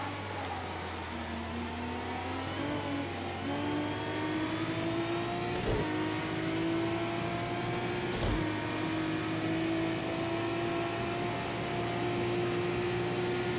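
Renault Megane engine in Project Cars 2 racing game, a continuous loud drone that climbs slowly in pitch, with a couple of quick gear-shift dips, alone without talk.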